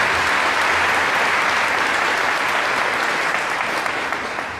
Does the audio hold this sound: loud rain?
no